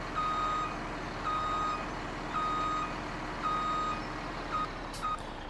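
Repeated reversing beeps sound from a truck unloading in Farming Simulator 17, about five evenly spaced beep bursts over a steady mechanical background, with no talking.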